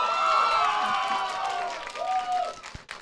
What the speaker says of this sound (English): Can we have another round of applause for Ali,